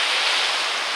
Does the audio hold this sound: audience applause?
no